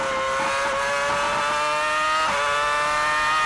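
A 2006 Formula 1 car accelerating hard onto Silverstone's Hangar Straight, its loud, piercing engine note climbing steadily with a quick upshift midway, continuous and close.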